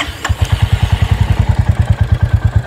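A Royal Enfield Classic 350 motorcycle starts and settles into a loud, close, evenly spaced thumping idle, each beat a deep pulse. A brief click sounds just before the engine takes hold.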